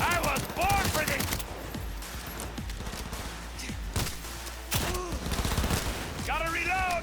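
Heavy gunfire from a Cyberpunk 2077 firefight, bursts of rapid shots cracking throughout with voices calling out in between and over the shooting.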